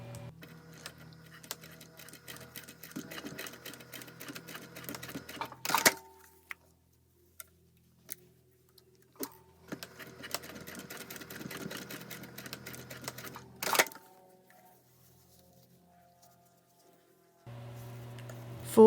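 A home sewing machine runs in two separate bursts, stitching across the ends of a zipper at a 3/8-inch seam allowance for a Cardiff Village Bag. Each burst is a rapid, steady mechanical whir followed by quiet pauses and small handling noises.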